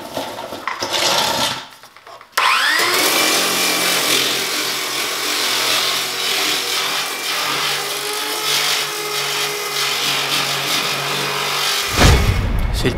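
Shrinking disc spinning against a welded car body panel, a loud steady whirring grind with a rising tone as it spins up, continuous close friction noise that stops abruptly near the end.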